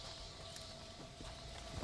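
Horse hooves clip-clop in the Red Dead Redemption: Undead Nightmare video game, a steady walking gait heard at moderate distance over continuous game ambience and background noise, with no talk in the clip.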